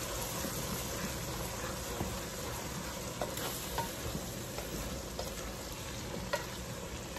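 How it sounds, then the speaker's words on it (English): Seasoned red beans are stirred in a pot with sazon, giving a steady close sizzle and scraping swish with small clicks of the spoon, and no voices over it. "And you stir."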